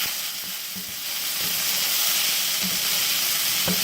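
Ham fried rice tossed in a skillet gives a loud, steady sizzle with a hissing frying wash, broken by soft periodic thumps and scrapes as the rice is turned.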